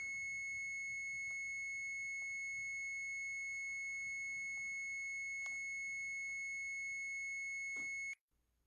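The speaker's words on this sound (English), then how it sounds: "It should stop beeping once the request comes, once you get on." Livestream software emits a steady electronic beeping tone with a few short chirps while waiting for a guest request, sustained and moderately faint for about eight seconds before cutting off abruptly.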